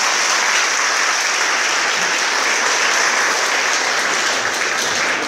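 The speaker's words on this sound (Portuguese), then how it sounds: "Vamos aplaudir a palavra do Senhor." A church congregation bursts into steady, dense applause, many hands clapping together loudly and continuously without a break.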